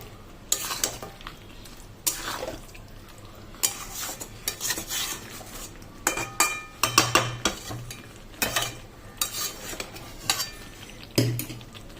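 Chicken kosha stirred in a pot over a low gas flame, a spoon scraping and clanking against the metal amid soft sizzling, followed by the clink of a lid set on top.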